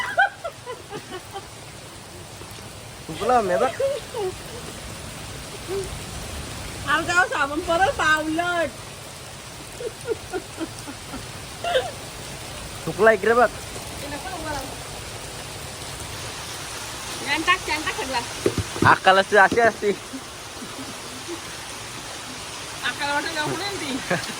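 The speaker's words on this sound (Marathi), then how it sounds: "अचानक खूप पाऊस पडला" Sudden heavy rain hisses as a steady wash of noise throughout, with voices talking intermittently over it.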